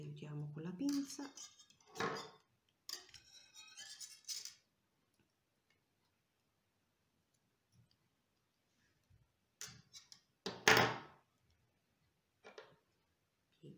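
Pliers bending metal wire into a small spiral for handmade jewelry: a few scattered metallic clicks and light clinks, close and soft, separated by quiet gaps, with someone talking in short bursts near the start.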